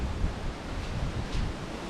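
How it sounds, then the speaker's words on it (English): Gusty wind blowing outdoors at a home gold-prospecting spot, a steady roar with microphone buffeting throughout and no other sounds standing out. "A bit windy."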